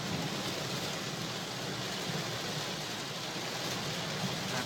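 Steady rain drums on a car windshield, a constant dense patter with no pauses, fairly soft and even throughout.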